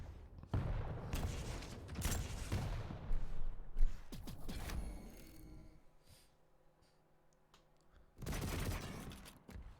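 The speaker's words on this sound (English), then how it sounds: "Double rocket jump, okay." Quake rocket jumps set off a dense cluster of sharp, loud explosive bursts, trailing into quieter rumbling and clatter before another heavy burst near the end.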